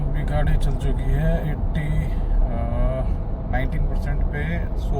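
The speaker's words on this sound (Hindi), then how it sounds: "अभी गाड़ी चल चुकी है" A car cruising on the Delhi to Mehendipur highway on new tyres, in eco mode with cruise control and the AC on, gives a steady, close road rumble throughout while a voice talks over it.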